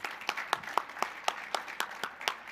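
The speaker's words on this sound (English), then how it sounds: "Give yourselves another round of applause." A small audience at an awards celebration claps in a sparse, distinct rhythm, individual hand claps ringing out at fairly regular intervals, fairly near and moderately loud with no talk over them.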